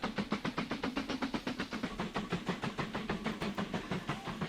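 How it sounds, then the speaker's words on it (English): A coal train in the Mashinky rail game runs with a steady, rapid rhythmic chuffing and clatter, evenly pulsing and fairly close throughout. "This looks like our first coal train."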